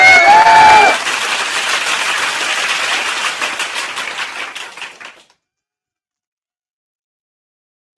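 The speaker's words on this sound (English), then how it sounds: "we got to give Lamar Jackson a round of applause" Applause from a crowd saluting quarterback Lamar Jackson, a dense wash of clapping that follows a short tonal sound at the start and then cuts off abruptly into silence.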